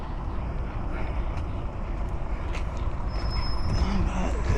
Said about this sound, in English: That is some tractor noise.